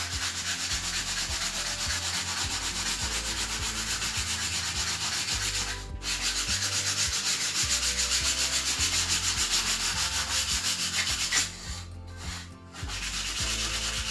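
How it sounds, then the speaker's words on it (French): Steady, close scraping of sandpaper over a Funko Pop diorama piece, a continuous rubbing hiss with a few brief pauses, no voices. "et on repasse un petit coup de ponçage"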